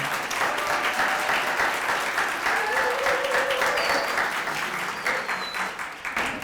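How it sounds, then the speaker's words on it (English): Graduation audience gives a sustained round of applause, dense crowd clapping holding steady for several seconds before easing off slightly at the end, with faint voices in the background. "please give a round of applause to Jeanette Vander Linden"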